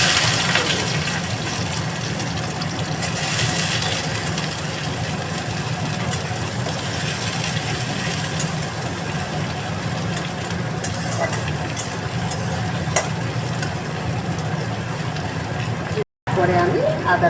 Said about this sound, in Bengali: একটু ভেজে নিই পেঁয়াজটা